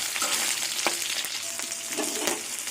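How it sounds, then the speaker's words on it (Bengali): Tengra fish frying in hot oil, a steady dense sizzle with occasional sharper pops and spatters, close and continuous with no talking. "এইভাবেই সব মাছগুলো ভেজে নেব"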